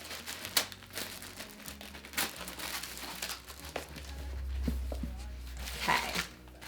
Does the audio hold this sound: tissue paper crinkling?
yes